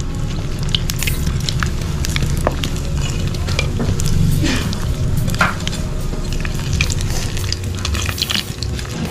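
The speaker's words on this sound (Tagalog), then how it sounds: "magsi-second fry na tayo mga kasolid. Siguro 3 muna yung ilalagay natin dahil hindi kasya sa kawali natin." Crispy pork deep-frying in a pan during its second fry, a dense steady sizzle with scattered pops and crackles, close and loud, with occasional utensil clicks and no talk.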